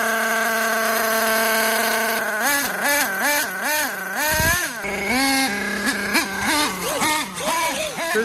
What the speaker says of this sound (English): Just messing about with the engine setup, make sure the engine's running nice.